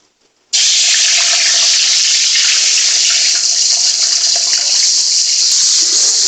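Meat hits browned onions in a pot for wedding-style biryani and bursts into a loud, steady hiss of sizzling that starts abruptly after a moment of quiet and holds on close and unbroken.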